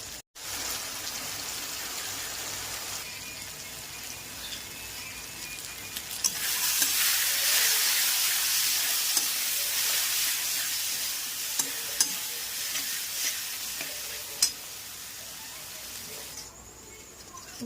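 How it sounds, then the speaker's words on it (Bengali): Spice paste sizzles in rendered mutton fat with a continuous frying hiss that swells loudly midway, then eases. Occasional stirring knocks sound against the pan. "অলরেডি আমার চর্বি দিয়ে মশলা দিয়ে পুরো কষানো হয়ে গেছে"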